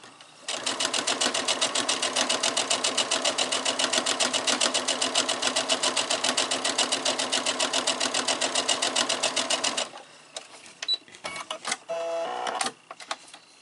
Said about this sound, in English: we're just going to stitch it down